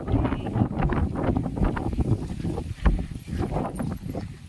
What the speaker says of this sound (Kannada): ಗಾಳಿ ಹೆವಿ ಬೀಸ್ತಾ ಇದೆ.